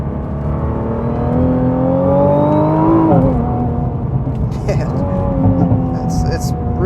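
A 2020 Nissan GT-R 50th Anniversary Edition is driven hard through tight corners, its engine droning steadily from inside the cabin with pitch rising and dipping as power is applied, loud and continuous.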